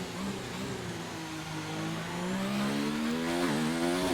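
Race car engines in the F1 2019 video game on the Belgium circuit whine at high revs, a loud sustained tone climbing steadily in pitch as the car accelerates, alone without speech.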